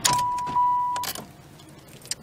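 Shutdown of a 1996 Oldsmobile Cutlass Supreme: a brief chime and the engine dropping off, followed by quiet clicks and a faint key jingle at close range.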